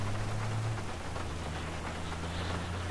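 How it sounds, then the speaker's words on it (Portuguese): Heavy rain pouring steadily in the video game GTA V, a dense, loud, continuous hiss over a low engine hum, with no voices. "e a chuva vem em força"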